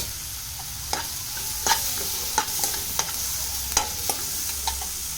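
Tomatoes frying in oil in a pan for a North Karnataka chutney, with a steady soft sizzle broken by a series of sharp scraping clicks as a spatula stirs them, close and alone without talk.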